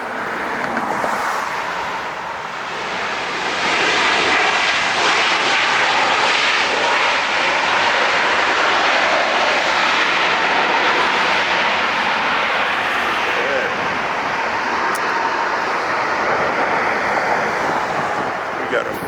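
An Air Canada airliner lands at LAX with a loud, sustained jet-engine roar that builds after a few seconds and holds steady, heard from a nearby spotting point.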